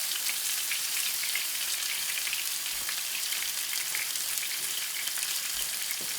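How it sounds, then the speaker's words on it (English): Ground turkey sizzles steadily in a hot pan, a constant bright crackling hiss with no break, heard alone without talk. "what we're going to do is add this ground turkey in there, like so"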